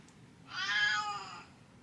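A house cat gives a single drawn-out meow, clear and fairly close, in an otherwise quiet indoor room early in the morning.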